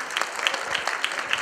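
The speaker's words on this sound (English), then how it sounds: "So we got to give a round of applause and welcome Craig Tornquist." An audience at a youth summit claps to welcome a speaker onstage. The applause is brief and steady, with dense overlapping hand claps at moderate loudness.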